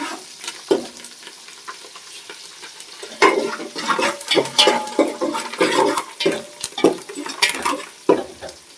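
Sliced onions and curry leaves fry with a pinch of salt in a hot pan for a lentil stew, a steady sizzle broken by repeated scraping, clinking stirs of a spoon against the pan, close and fairly loud.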